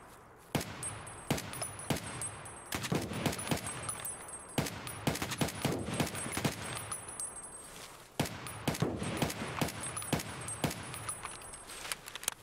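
Automatic gunfire in Escape from Tarkov, long runs of rapid, loud shots in repeated bursts with brief pauses between them, and no talking over the firing.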